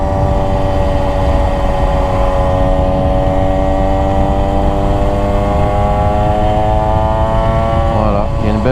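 A motorcycle engine runs loud and steady after carburetor needle tuning, its pitch climbing smoothly under constant throttle before a brief wobble near the end. Talk is faintly mixed in.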